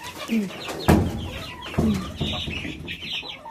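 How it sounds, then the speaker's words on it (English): Young chickens cluck near a coop in short, scattered calls, with a few louder bursts standing out over a busy background of further peeping and bird sounds. "Alright, little chickens. Time for you to go out."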